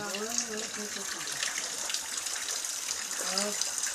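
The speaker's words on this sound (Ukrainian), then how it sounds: "Бачите, вода твоя тече." Running water flows in a steady, moderate hiss while voices speak over it at the start and again near the end.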